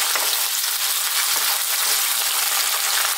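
Garlic ginger paste, a 50-50 mix of pureed garlic and ginger, hits hot oil in a pan and fries with a loud, bright, continuous hiss and sizzle that stays steady the whole time.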